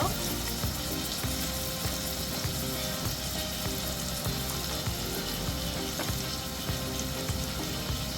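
Onion and a couple of pinches of asafoetida fry in hot oil for masoor dal, producing a loud, continuous crackling sizzle with occasional stirring clinks close by.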